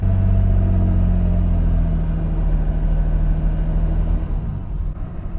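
Lamborghini Miura's 3.9-litre V12, mounted right behind the driver's head, rumbling loud and close from inside the cabin with steady harmonic engine tones that ease off near the end of the drive.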